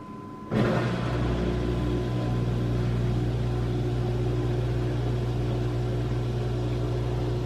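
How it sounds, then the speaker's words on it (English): A motor or blower switches on abruptly and runs loudly and steadily, a constant droning hum with a low, even tone. "an extra motor sound or blower sound, I'm not sure what that is"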